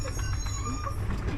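An ONCF Al Atlas passenger train pulling into Mohammedia station, with a low rumbling hum and faint wheel squeal and high tonal whines as the cars roll slowly, heard from on board.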